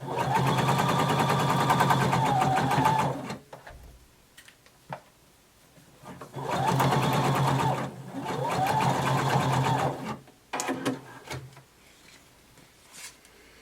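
A sewing machine stitches over a flattened seam allowance on a bodice seam in two loud, sustained bursts of rapid mechanical whirring, separated by pauses filled with small clicks and handling noises.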